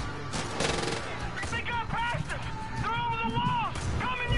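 Gunfire in Far Cry 5, a cluster of loud shots early and scattered bursts later, mixed with game sounds while a voice talks and exclaims over the action.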